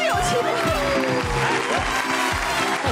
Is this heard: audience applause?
yes